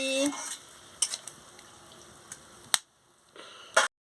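A spoon scrapes and clinks in a pan of fish curry with water just added, giving a few sharp taps and stirring scrapes over a faint sizzle, with quiet gaps between.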